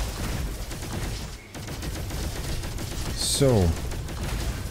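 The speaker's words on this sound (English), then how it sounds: "Cosmo gun is basically a hurricane rifle, or maybe a typhoon, not a typhoon minigun, a hurricane rifle, but on a pistol." Rapid automatic fire from the Cosmo gun, a pistol-sized weapon in Roboquest, crackles continuously through the clip alongside game effects, with a rising electronic whine near the end and someone talking briefly over it.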